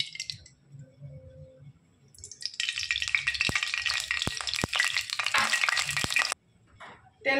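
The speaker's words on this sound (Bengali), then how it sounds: "তেল গরম হয়ে গেছে, আদা পেঁয়াজ রসুনটা আমি একটু ভেজে নেব।" Onion, ginger and garlic hit hot mustard oil in a wok, setting off a loud, sustained sizzle that swells suddenly and holds for several seconds, punctuated by sharp clicks of a stirring spoon, before abruptly dropping away.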